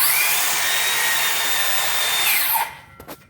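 A Makita electric rear-handle 7 1/4 inch circular saw runs at a steady high-pitched whine, loud and close, then spins down quickly as the brake stops it near the end.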